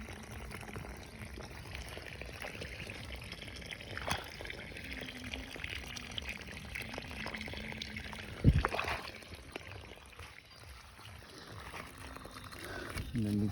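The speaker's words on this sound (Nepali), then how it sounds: "यसमा चट्ट पानी लगाएर आज यसको व्यवस्था पनि गरियो" A lychee plant being watered after many dry days: a faint, steady trickle and pour of water runs throughout, with one brief thump partway through and no voices.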